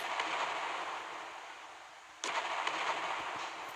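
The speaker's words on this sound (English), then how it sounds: "I have to see where these shells land." Naval guns on a ship firing shells in the video game Naval Creed, heard as a steady roar of battle with one sharp salvo crack midway and a continued rumble afterward, with no voices.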